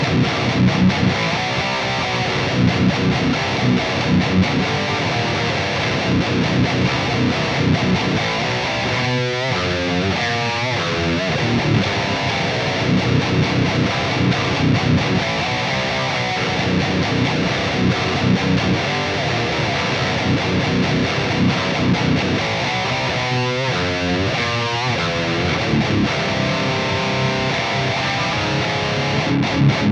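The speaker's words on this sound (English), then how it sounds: "let's hear how the rhythm tone sounds first and foremost" An electric guitar plays a heavily distorted metal rhythm part through the Donner Arena 2000 multi-effects unit's metal preset, loud and dense with chugging palm-muted riffs and a few sustained chord swells.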